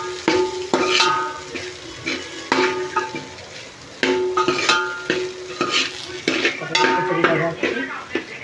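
A spoon stirs khichdi with its tempering in a metal pot, scraping and clinking against the sides in a steady, repeated rhythm over a soft sizzle. The sound is close and fairly loud, with no voices.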